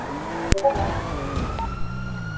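A police siren wails with rising and falling tones amid traffic noise, a sharp knock near the start, nearby and moderately loud.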